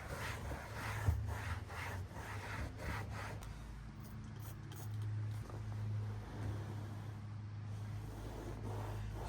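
Scrubbing on a toy truck seat with interior cleaner gives a soft, repeated rubbing and brushing, quiet and close, in a series of strokes that later blend into a steady low scrub against faint background hum.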